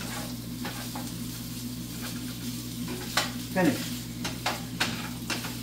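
Breakfast sausage frying in a pan, a steady close crackle over a low hum, with a few louder stirring scrapes and spits near the middle and one brief spoken word.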